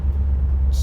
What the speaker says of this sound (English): Now the exhaust on this thing sounds amazing.